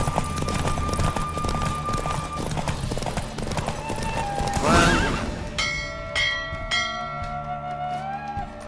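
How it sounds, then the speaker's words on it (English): Horse in The Witcher 3 video game galloping with rapid clip-clop hoofbeats, then a loud whinny, followed by ringing bell tones as the gallop fades. "Don't spare the horse!"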